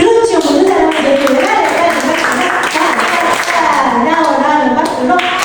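Children clap together in a church children's gathering, a steady, dense stretch of clapping that runs the whole time under a voice speaking over it.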